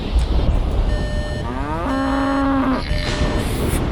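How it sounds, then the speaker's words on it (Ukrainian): A cow lets out a long, low moo, rising then holding steady, over a constant background rumble. "Корова!"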